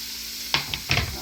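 Chard stems and other vegetables for a vegetarian red borscht sizzle steadily in a pot, with a few quick scraping stirs over the frying.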